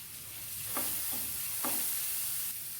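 Black pepper powder and curry leaves sautéing in a pan for a potato and egg stir-fry, a soft continuous sizzle broken by three quick spatula scrapes, close and quiet with no talk.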